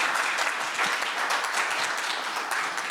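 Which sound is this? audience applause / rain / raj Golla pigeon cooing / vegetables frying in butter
audience applause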